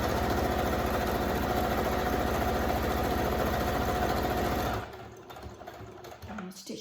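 A sewing machine stitches a child's face mask in a steady, fast, even rhythm of motor hum and needle clatter that stops abruptly near the end, leaving quieter handling noise.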